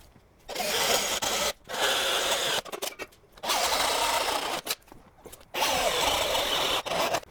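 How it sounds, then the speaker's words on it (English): Drilling holes for high-clearance side step brackets on a 5th-gen Ram TRX: a power drill whines in several loud bursts of a second or two each, separated by short pauses. "I'm gonna get over there and drill."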